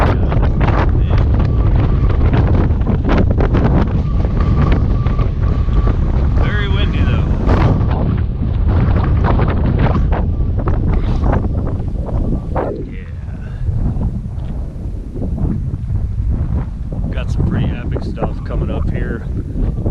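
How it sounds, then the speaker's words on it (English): Strong wind buffets the microphone in loud continuous roaring gusts while backpacking in the Wind River Range mountains, easing slightly near the end, with a voice speaking under the noise. "Once again, the wind is whipping"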